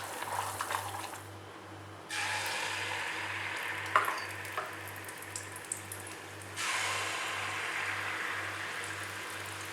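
Banana batter fritters frying in a pan of oil, a steady close sizzle with bubbling that swells louder in stretches, a low hum beneath and a few light clinks.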